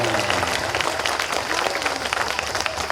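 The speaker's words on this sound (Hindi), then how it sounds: "उनको जोरदार तालियों से स्वागत करें।" A crowd at a religious discourse breaks into loud, continuous applause to welcome a visiting saint. The clapping is dense and steady, with crowd noise underneath throughout.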